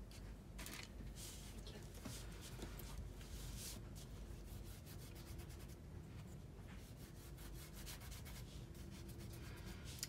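Steady rubbing on a mixed media artwork, a continuous dry, scratchy friction that sweeps back and forth at close range with an even, faint loudness and no speech.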